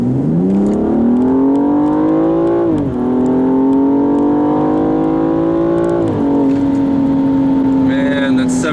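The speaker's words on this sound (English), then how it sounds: "I'm gonna floor it here." A 2015 BMW M235i engine revs hard at full throttle, its pitch climbing steadily with brief dips at gear changes, loud and close throughout.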